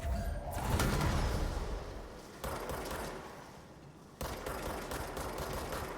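Gunfire aimed at an enemy creature in the video game Control, with loud sustained rattling bursts that fade and then restart sharply twice, dense and close.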